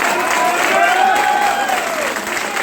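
Audience applause at a Kaziranga training seminar, a dense steady wash of clapping with some crowd noise, loud and continuous throughout.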